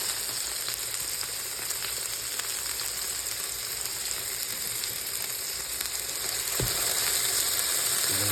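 A Schweid & Sons Signature Blend burger patty sizzles steadily in a pan, a loud, even crackle of frying fat that carries on throughout with no talk.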